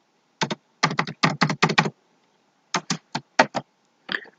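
Keys clack on a computer keyboard in two quick bursts of typing, ending with presses of the End and Enter keys, close and crisp against an otherwise quiet room with no talking.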